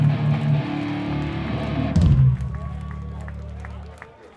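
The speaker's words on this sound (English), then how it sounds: "Big round of applause for yourselves." Punk show crowd in Tompkins Square Park applauding outdoors after a Madball set, a broad wash of clapping and noise under a loud amplified hum that cuts off midway and leaves a thinner, fading crowd.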